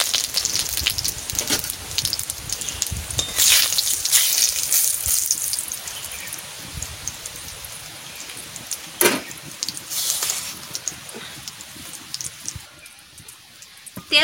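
Mustard oil and bay leaves sizzling in a hot pan while mutton is cooked: a steady loud hiss and crackle runs throughout, with a few sharper pops.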